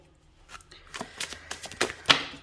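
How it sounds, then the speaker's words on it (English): Oracle cards being shuffled by hand, a quick series of soft riffling slaps and flicks building to a sharper snap near the end, close by. "I'm just going to shuffle again."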